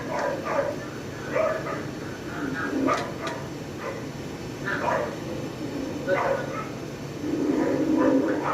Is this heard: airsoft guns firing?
no